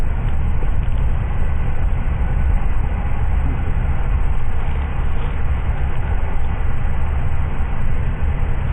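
Inside a moving train carriage on a long ride, a steady loud rumble and rolling roar carry on without a break, with no voices.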